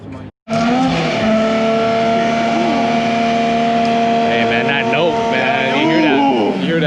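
Twin-turbo inline-six in a Nissan Skyline GT-R revving hard up close, a loud rising and falling engine note with sharp pitch sweeps, voices audible over the engine.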